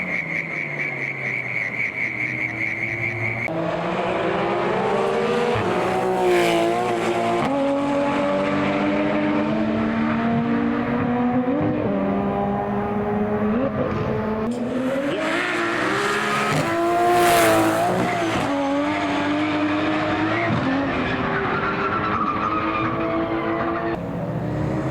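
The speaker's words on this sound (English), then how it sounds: "Next rally car's coming, doesn't even know." A tarmac rally car in Perth roars past at speed, its engine note rising and falling through gear changes, with a second loud pass later on and faint tyre squeal.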